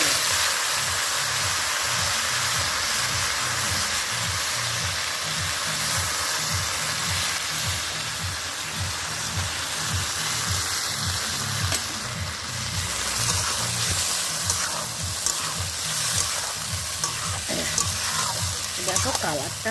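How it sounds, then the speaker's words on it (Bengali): Marinated goat meat fries in a pan with a loud, constant sizzle, broken by regular rhythmic scraping of stirring that runs close and unbroken for about twenty seconds. "এবার মাংস মাখানোটা ঢেলে দিলাম।"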